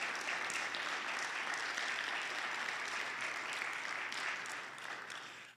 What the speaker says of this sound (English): can we give another round of applause to Reverend Turner and Dr. Michael Martirano